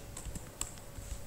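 Quick keystrokes on a computer keyboard while entering C++ code, a short burst of light clicks close by.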